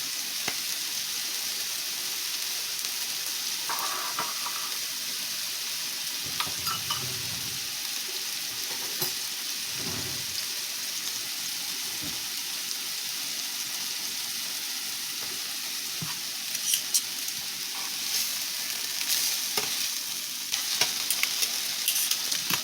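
Chicken breast sears in a hot pan with a steady, close sizzle and frying hiss, interrupted now and then by soft scraping and stirring.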